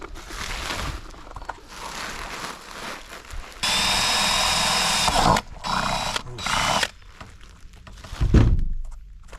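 Power drill boring holes for a bass boat windshield install, a steady whine in one sustained burst near the middle, with shorter bursts and handling clatter before and after.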